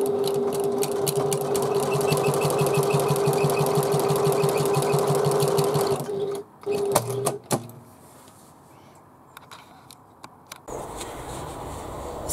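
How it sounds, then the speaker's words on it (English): A sewing machine runs steadily in a fast, even rhythm while top stitching a Lola domed handbag, then stops around six seconds, leaving a few clicks and handling noises before a low hum returns. "And top stitch both sides."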